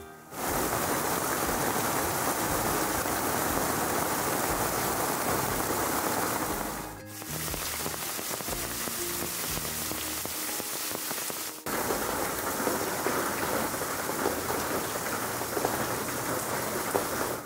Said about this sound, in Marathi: तेव्हा पावसाने जोरदार स्वागत केलं.